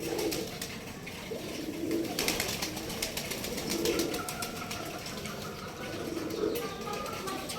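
Domestic pigeon on a rooftop loft, cooing in low repeated murmurs and flapping its wings in quick bursts as it takes off, set against steady outdoor background noise.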